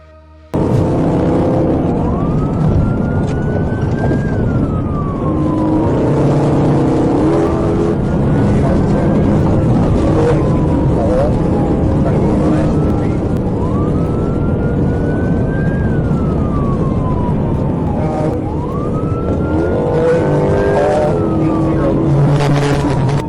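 A police siren wails in repeated rising and falling sweeps over loud road and engine roar as a car races through highway traffic during a chase, sustained and close throughout.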